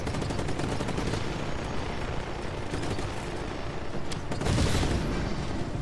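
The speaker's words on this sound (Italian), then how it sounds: "allora spariamo con violenza qui, raga, i cosi del gas che li facciamo scoppiare" Rapid gunfire blasting at gas canisters in Just Cause, a dense continuous stream of shots with a louder burst or pop near the end, steady and close.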